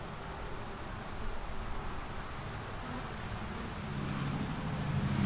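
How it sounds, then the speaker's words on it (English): Honey bees buzz around hive frames, a faint, steady hum growing slightly louder toward the end, with no voices. "they see the queen walking around on her frames with her bees."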